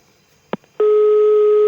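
A short click, then a steady electronic phone tone begins and holds continuously, loud and close, like a line signal while placing a call.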